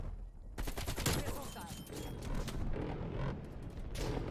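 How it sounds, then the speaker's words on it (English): A strafing run in Black Ops Cold War multiplayer on Nuketown '84 produces dense, sustained gunfire and rapid volleys with booming impacts, loud and continuous across the whole stretch. "Is that a strafing run thing?"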